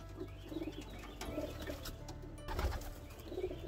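Pigeons cooing softly at close range, a few low throaty coos with some rustling and a brief flutter of wings, fairly quiet overall.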